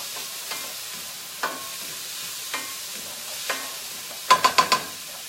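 Garlic heated in a pan gives a soft, steady sizzle, broken by a few scattered scrapes and then a quick burst of four or five stirring clatters near the end.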